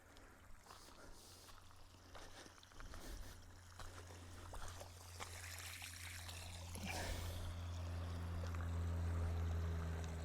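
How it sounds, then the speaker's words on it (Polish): Water gushes and sputters from a hose with air in the line, building into a steady splashing flow that grows louder toward the end as a pool is pumped out. "O, już leci woda."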